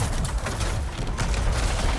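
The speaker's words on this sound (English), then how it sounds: "Advanced mortars attacking." Advanced mortar units fire in the video game Battle Aces. The barrage is dense and continuous, with booming explosions and gunfire-like rumble under the game mix.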